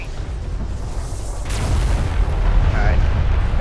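An orbital railgun strike fires in the sci-fi strategy game Homeworld: Deserts of Kharak, a loud, deep rumbling blast that swells and sustains with a sharp crack partway through.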